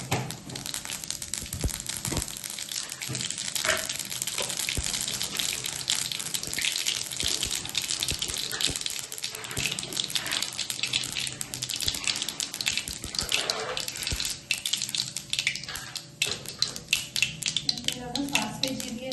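Mustard seeds and cumin splutter in hot oil in a home kitchen, giving a dense, continuous crackling sizzle up close, with sharper pops toward the end.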